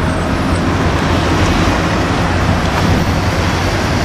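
A 1981 Ford LTD with a 351 Cleveland V8 cruises along the road home from Melbourne. Engine drone, tyre roar and road noise blend into a loud, constant wash heard from inside the car.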